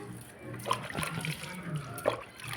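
Water sloshes and splashes in a bucket prepared for washing a mango, with a few brief splashes and trickles over soft background noise.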